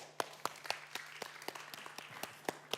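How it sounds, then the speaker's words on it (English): Theatre audience applauding a speaker at an interactive show, with sparse, distinct claps at moderate distance rather than a dense ovation, steady throughout. "Please give an applause for Niels Kuiters."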